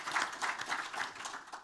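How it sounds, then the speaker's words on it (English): Brief, faint applause from a conference audience at a health tourism event in Crikvenica: soft scattered clapping in rhythmic waves, somewhat distant, lasting under two seconds. "One big applause for Mr. Kuterovac,"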